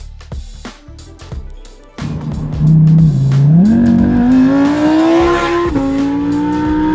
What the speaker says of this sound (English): There is a Lamborghini behind me and I really want to hear it, so I'm going to see if I can get him to go past me.